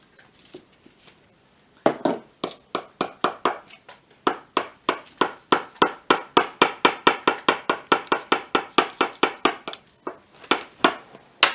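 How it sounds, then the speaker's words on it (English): Small tool chiseling at clay in a kids' dino dig kit, producing a long run of sharp, evenly spaced tapping knocks, close and fairly loud, after a brief quiet start. "So go ahead and start chiseling."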